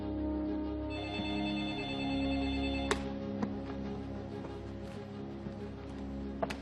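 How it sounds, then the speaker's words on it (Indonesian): An old-style telephone rings steadily at an evening office or home, a continuous electronic bell tone with repeated pulses, fairly loud and close, with faint background movement and no talking. "Maaf Pak Habibie, ada telepon dari Jerman."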